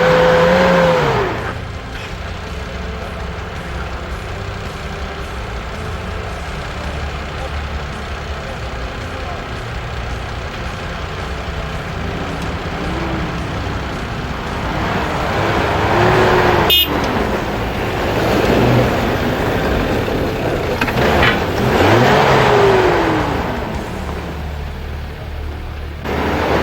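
Suzuki Jimny with a 1300 engine revving hard off-road on a 4x4 trail, a strained, continuous engine drone with rising and falling pitch sweeps, under crowd noise and shouting voices throughout.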